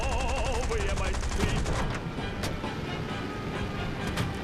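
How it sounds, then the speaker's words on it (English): Rapid bursts of flak cannon fire hitting an aircraft in War Thunder, quick repeated thuds over a constant engine drone, with a few louder sharp blasts. "I'm getting hit by flak cannons."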